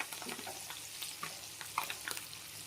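Small fish frying in oil with curry leaves and two green chillies: a steady, fairly quiet crackling sizzle with scattered sharp pops, no voices.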